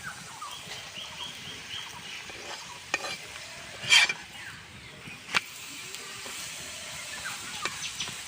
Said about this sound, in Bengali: এই যে পরোটা ভাজার জন্য এটা তাওয়া নিয়ে নিয়েছি।